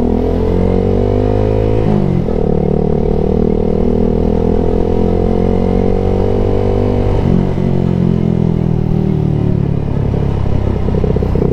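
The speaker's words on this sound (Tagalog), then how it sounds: "May mga motor sa likod natin." Motorcycle engines, including a Suzuki Gixxer SF 250, drone loudly and continuously at close range, with the pitch shifting as riders change gears along the road.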